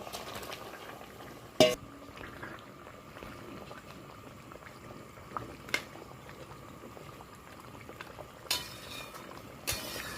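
Sea fish curry with potatoes simmering in a pot, a soft steady bubbling murmur broken by a few sharp clinks and scrapes of a utensil against the pan.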